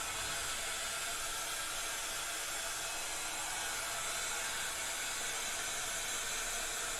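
A dryer, likely a heat gun or flash dryer, blows steadily over fresh ink on a printed white shirt, giving a continuous, even broadband whoosh with no talk.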